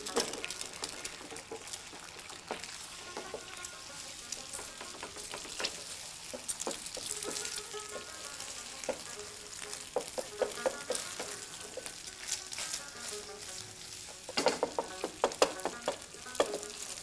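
Two eggs fry in a pan, a close crackling sizzle with busy pops and the scrape and clatter of stirring, growing livelier toward the end.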